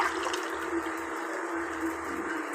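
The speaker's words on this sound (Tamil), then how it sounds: "அந்த தண்ணி இதில் ஊற்றிக்கலாம்." Drumstick cooking water is poured from a strainer into a pot for rasam, a soft, continuous splashing trickle heard alone at a fairly low level.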